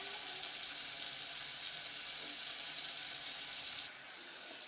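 Spices such as chili powder, salt, masala and turmeric fry in oil in a pan, giving a steady, close, bright sizzle that drops slightly in level near the end, with no voices.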